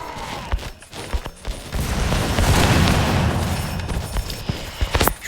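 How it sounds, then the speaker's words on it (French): Enemy heads exploding in the Doomspire tower defense game, a rapid series of sharp pops and booms over a continuous rumbling game soundscape, with bursts clustered at the start and end. "On peut voir leur tête qui explose."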